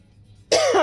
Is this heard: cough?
yes